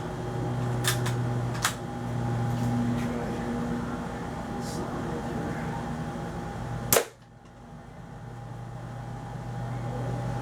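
A Daisy 99 BB gun fired at a paper target, giving a few sharp, spaced snaps over steady background hum, with one louder crack near the end followed by a sudden drop in noise.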